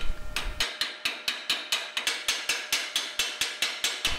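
A chipping hammer knocks slag off a freshly laid stainless steel electric arc weld, giving a fast, even series of about fifteen sharp metallic taps, close and fairly loud, with no voices.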